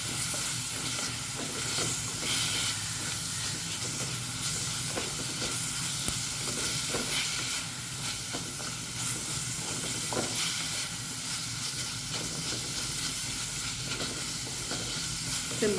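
Sardine peera with chilli powder sizzles and hisses in a pan under continuous stirring, with a dense, steady frying wash and occasional scrapes close by.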